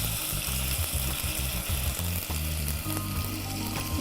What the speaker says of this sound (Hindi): इसे भी थोड़ा सा हम भून लेते हैं।